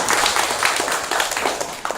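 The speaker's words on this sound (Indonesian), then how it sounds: "tepuk tangan untuk Muhammad." Pupils in a classroom clap together for a classmate, a dense burst of close applause lasting about two seconds.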